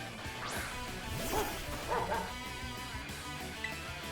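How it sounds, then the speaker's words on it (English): A Pokemon cry from the game Pokemon Violet that sounds like a dog barking: a few short yelping, bark-like calls in the middle, mixed with game music and sound effects, moderately loud. "I love how his cry is literally that of a dog barking"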